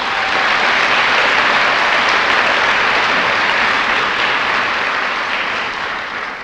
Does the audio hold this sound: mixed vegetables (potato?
no